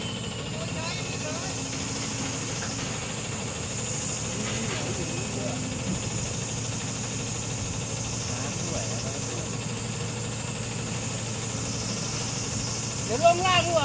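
A truck engine idles and rumbles steadily while the vehicle reverses on a rainy day, a moderate low drone with faint hiss, with people talking over it and a brief louder knock near the end.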